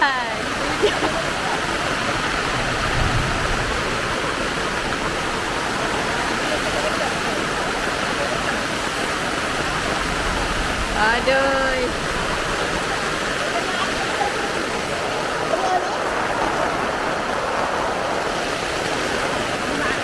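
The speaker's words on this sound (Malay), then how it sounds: "Arai, hujan." Rain falls steadily at a campsite in Bentong, Malaysia, a dense, even hiss of water close around, while people talk and exclaim over it.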